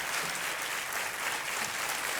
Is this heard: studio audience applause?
yes